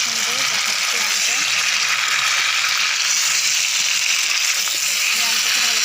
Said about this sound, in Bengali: আমি আমটাকে ভালো করে কষে নিচ্ছি